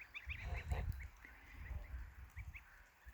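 Geese, the parents of a brood of goslings, honk in short repeated calls from a little distance, faint over low rumbling background noise on a farm in the rain.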